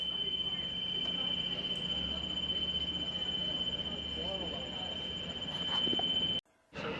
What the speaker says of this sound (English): That whistling sound you can hear is the warning as the vehicle loading ramp is lowered.